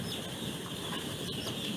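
A day-old chick being handled during a veterinary blood-sampling practical gives soft, continuous high peeping, faint and close over a quiet room.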